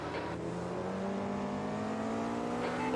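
A race car drones steadily in the AMS2 racing video game, a continuous engine hum with a faint passing swell, moderately quiet and without speech.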